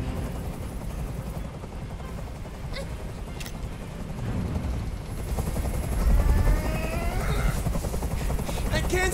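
A police helicopter hovers over a hostage scene in the video game Detroit: Become Human, its steady rotor rumble filling the background while tense sounds and occasional sharp bursts cut through. The noise swells louder midway and then holds.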